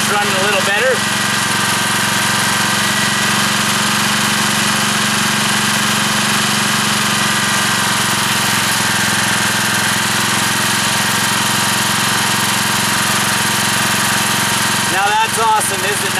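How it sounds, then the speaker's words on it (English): A generator engine fueled by syngas from a wood stove runs steadily, a loud continuous mechanical drone throughout, with brief voices near the start and end. "You can tell the generator's running a little better."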